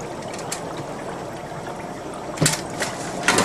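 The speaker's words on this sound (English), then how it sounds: "move them into our rinsing tank here. Allow these to be rinsed." Window blinds being rinsed in a cleaning tank give a steady wash of churning, bubbling water at close range, with a few splashes and clanks breaking through near the end.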